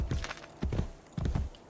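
Hooves clip-clop on hard ground in Assassin's Creed Brotherhood, heard as three close rhythmic clusters of heavy, near thuds from a horse walking, with no voices.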